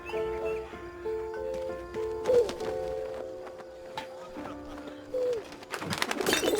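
A pigeon coos in the World War I game 11-11 Memories Retold, with a few soft, low warbling coos over musical tones and ambient game sound, ending in a louder rustling burst.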